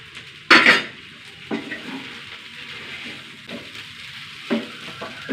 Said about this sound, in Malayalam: അടച്ച് വെക്കണ്ട, തുറന്ന് വെച്ച് വേവിക്കണം കേട്ടോ. ഇടയ്ക്കിടയ്ക്ക് ഇളക്കി കൊടുക്കണം.